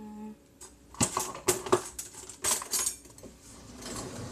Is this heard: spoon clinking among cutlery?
yes